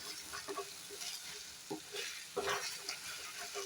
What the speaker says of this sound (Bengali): এবার এটাকে আবার নাড়াবো